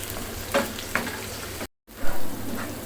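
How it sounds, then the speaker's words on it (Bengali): Ginger garlic paste frying in a pan for an egg korma, with a steady close sizzle and a few louder stirring scrapes, broken by a brief gap of silence before the frying resumes. "ভালো মতন আমি এটা প্রায় পাঁচ সাত মিনিটের মতন ভেজে নিব"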